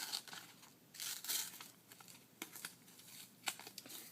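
Paper is ripped by hand in a series of short, dry tearing and crinkling bursts, close and quiet, with gaps between pulls.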